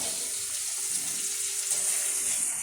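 Half a sliced onion drops into hot oil for a jackfruit masala roast and fries in a broad, hissing sizzle that stays steady and fairly loud throughout, with no voices.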